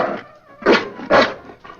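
A dog gives several short, close, whiny whimpers, two louder yelping bursts standing out between quieter breathy whines.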